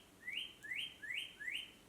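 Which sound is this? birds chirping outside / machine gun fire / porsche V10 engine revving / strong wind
birds chirping outside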